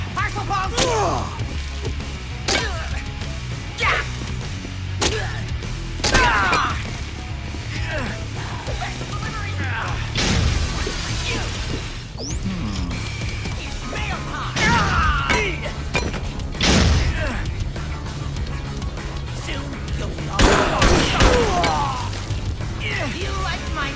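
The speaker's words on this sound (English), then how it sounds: "Parcel bomb!" A parcel bomb blows up in Dead Rising 2 amid loud crashing and thudding impacts, a chaotic run of smashes and bangs with scattered debris noises, and a voice talking over parts of it.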